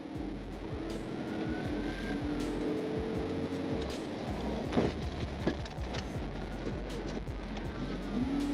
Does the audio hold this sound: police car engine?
yes